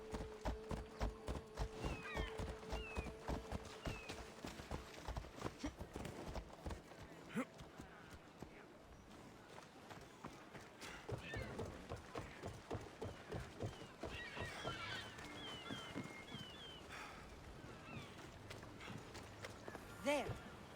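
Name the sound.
horse galloping through town, from video game Assassin's Creed Odyssey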